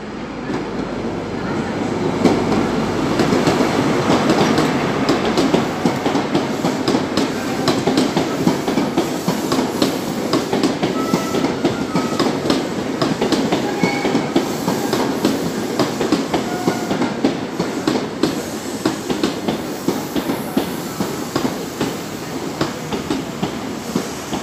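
A train rolls through Exeter St David's station with eight coaches, giving a loud, steady rumble with rhythmic clickety-clack of wheels over rail joints throughout, with no talking.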